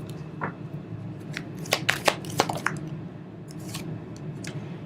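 Angel cards being shuffled for a collective card reading, heard as close, soft riffling and slapping of cards in a cluster of sharp bursts, with no talking.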